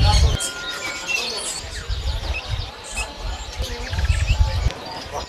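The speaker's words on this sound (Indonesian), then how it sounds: "Ini burung anis, kembang, decu, sama sirgunting abu-abu." Many small songbirds chirp and call at a bird market kiosk, a busy overlapping chorus of sharp tweets and trills from caged birds such as thrushes and grey drongos, with low thumps and murmurs of people moving around nearby.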